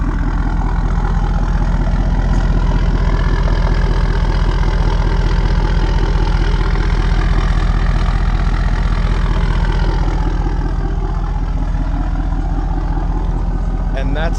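Ford 6.7 Powerstroke diesel pickup with a straight-pipe 5-inch axle-dump exhaust and 8-inch tip, idling with a deep, steady, loud rumble throughout and no break in the sound.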